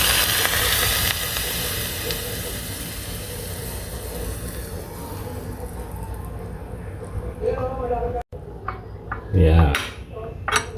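Hot oil poured over grated ginger and spring onion for Hainanese chicken hisses in a strong, steady sizzle that fades, followed by clinks and clatter of dishes and utensils with a brief voice.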